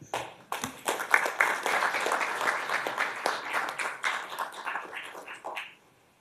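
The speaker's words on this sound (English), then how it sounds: "another round of applause, please" An audience at an Augusta Commission meeting applauds years-of-service recipients, a dense burst of clapping that holds steady for several seconds and then dies away quickly.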